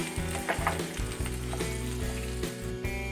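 Gongura chutney sizzles in a pan while being stirred, a steady close frying hiss with scraping stir strokes over a low constant hum, no one talking.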